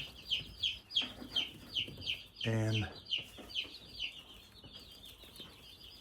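Young chicks in a coop cluck and peep in quick, repeated calls at close range. One louder, harsher squawk breaks in midway. A voice speaks briefly.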